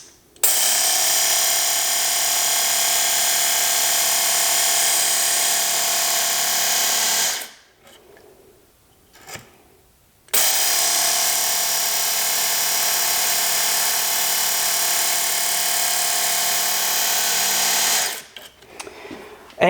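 A WorkSharp MK.2 belt knife and tool sharpener runs on its first speed setting, a steady loud motor whine with belt hiss in two long bursts separated by a brief quiet pause, close up and without talk.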